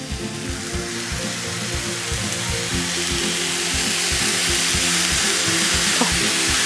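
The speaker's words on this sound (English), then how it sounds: "just a little bit of a drizzle of soy sauce. You'll hear it sizzle up a little." Soy sauce drizzled into a hot pan of faux fried rice sizzles and crackles loudly and continuously, with a rhythmic stirring scrape pulsing underneath and no talk.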